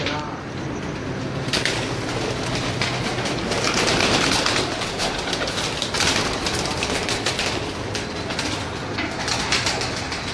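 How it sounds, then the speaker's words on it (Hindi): Prized breeder pigeons belonging to Khalifa Naveed cooing in a loft, soft repeated coos under a steady noisy background with a faint rumble, fairly close. "नायाब कबूतर हैं नवीद साहब के"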